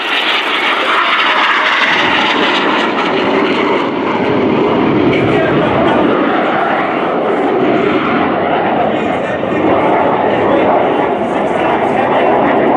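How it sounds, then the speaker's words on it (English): Red Arrows jets roar past at high speed during an air display at RIAT 2024, a loud, sustained broad jet rumble filling the whole stretch, with commentary talk over it. "Each aircraft will conduct a 360-degree aerial roll before turning hard away from each other."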